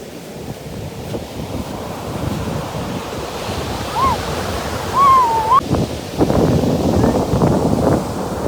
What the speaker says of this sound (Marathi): मोठ्या मोठ्या लाटा येतात